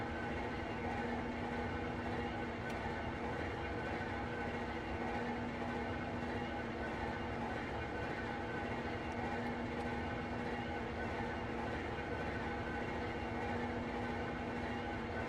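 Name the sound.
CSX heavy haul locomotive running in video game Train Simulator World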